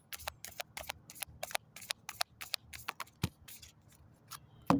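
A Moonology oracle card deck is shuffled close up in quick repeated riffles of crisp card flicks, followed by a single soft thump, with no talking.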